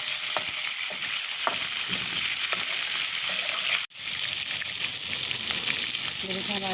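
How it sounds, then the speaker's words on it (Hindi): Chicken sizzles steadily in a pan while frying for a chicken daal mash, with a continuous hiss and faint stirring clicks and a brief dip partway through. "ये देखिए हमारा चिकन फ्राई हो रहा है।"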